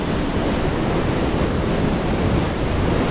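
Steady, loud roar of open-ocean swell and breaking waves with strong wind buffeting the microphone, a dense continuous wash with no pauses or voices.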